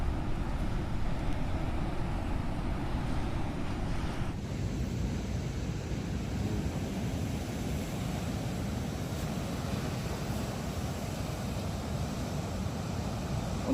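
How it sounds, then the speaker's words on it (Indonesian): Ocean waves roll onto a small beach hemmed in by two cliffs at Jung Pakis in Tulungagung, a continuous loud wash of surf mixed with gusty wind buffeting the microphone. "ombaknya relatif nggak terlalu luas karena diapit dua tebing"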